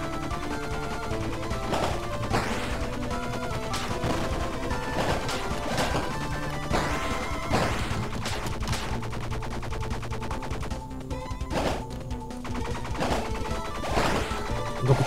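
Enemies shooting in the video game Bleed produce rapid, repeated gunshots and crashing impacts over busy game music, loud and continuous with frequent bursts.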